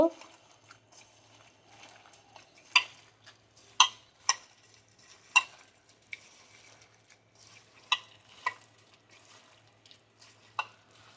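Goat brain being stirred and fried in a pan, with sharp, scattered scrapes and clacks from the spatula over a quiet, low background hum.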